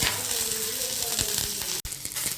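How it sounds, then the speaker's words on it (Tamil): Two handfuls of curry leaves fry in hot oil in a pan, giving a loud, continuous crackling sizzle with a brief sharp clack of a utensil near the end. "அதே கடையில் கருவேப்பில் ரெண்டு கை அளவு எடுத்துருக்கேன் அதையும் ஃப்ரை பண்ணி எடுத்துக்கலாம்"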